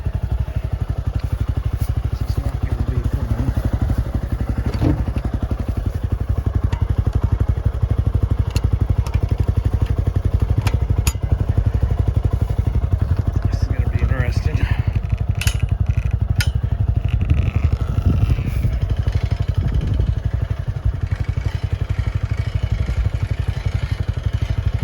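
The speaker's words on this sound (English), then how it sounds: "roll out a hay bale, bring you along for the ride" Tractor engine running steadily and loud while rolling out a hay bale, a constant close chugging drone with occasional clatters and thumps over the full length.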